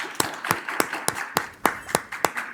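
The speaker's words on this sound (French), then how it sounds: "applaudissez-le s'il vous plaît" A single person's hand claps, about ten sharp, evenly spaced claps in a steady rhythm, close and clear over faint background noise.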